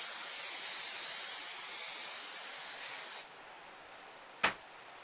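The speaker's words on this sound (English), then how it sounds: "I'm going to spray some of the basting stuff on" Aerosol basting adhesive sprays onto quilt batting for a T-shirt memory quilt in one long, steady hiss of about three seconds, then a quieter pause and a single short final burst of spray.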